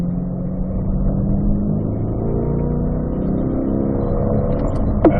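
Race car engine on a track held at a steady loud drone, its harmonics sliding gradually upward as the car runs through a corner in third gear, with a brief sharp blip near the end.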